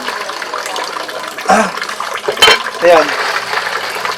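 Water splashes and pours over snails being washed, coming in short gushes and swishes close by, while a voice speaks briefly over it.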